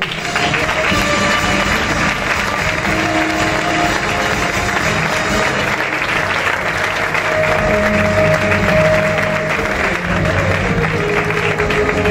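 Sustained audience applause at a Comparsa de Cristianos tribute ceremony, a dense steady wash of clapping lasting the whole stretch with faint murmurs and tones underneath.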